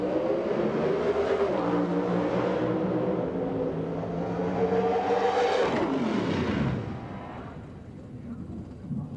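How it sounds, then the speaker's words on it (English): Pro Stock drag racing cars roaring down the strip, loud sustained engine noise with a falling pitch sweep as they pass and fade, ending quieter. "Bob Perry gets sideways across in front of Krischer and hard into the wall."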